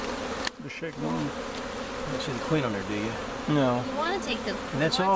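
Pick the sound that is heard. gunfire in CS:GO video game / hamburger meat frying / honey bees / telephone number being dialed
honey bees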